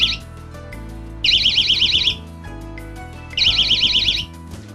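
An electronic alarm set off by a head-tilt switch sounds in two bursts of rapid warbling beeps, each lasting about a second, over a steady low hum.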